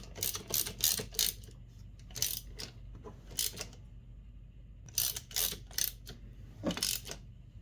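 Screws being tightened on a Mikuni TM-style carburetor from a 2002 Arctic Cat ZR 800 snowmobile, giving bursts of close, sharp metallic clicking and ratcheting separated by short quiet gaps.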